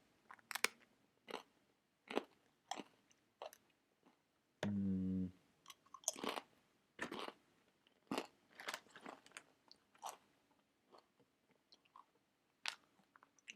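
Gluten-free tortilla chips being bitten and chewed up close, with a steady run of sharp, crisp crunches at an irregular rhythm and brief quiet gaps between bites. No one speaks.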